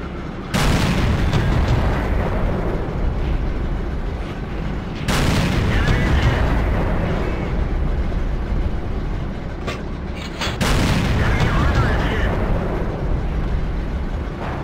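Nashorn tank destroyer firing its gun in a World of Tanks battle, three heavy booming shots roughly five seconds apart, each followed by a long rumbling reverberant tail that fills the gaps, loud and close.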